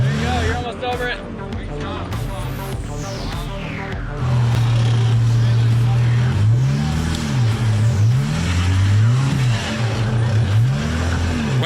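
A vehicle engine towing a Black Series camper trailer over rocks on a steep off-road trail, revving loudly and rising and falling in repeated surges, close by, with people calling out over it.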